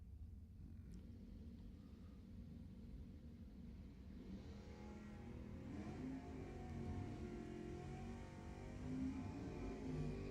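Drag racing cars, an El Camino and a Mustang, launch in an ET final at Lebanon Valley Dragway. Their engine rumble and revving swell steadily from a moderate distance, with no voices.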